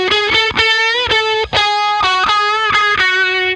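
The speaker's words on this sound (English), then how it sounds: "having two different kind of distortion settings really does help to kind of accentuate one of them" Electric guitar driven through a Fuzz Factory distortion pedal, heavily fuzzed sustained chords in short rhythmic bursts with brief choppy gaps, loud and close with no voices.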